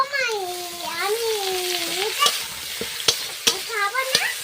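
Panch phoron and ginger-garlic paste sizzle in hot frying oil with a steady hiss and sharp pops and crackles, close up, while a voice talks over it.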